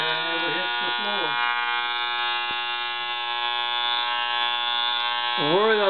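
Electric hair clippers that hook onto a vacuum cleaner give a loud, steady, even buzz for a home haircut, running without a break while someone talks over it.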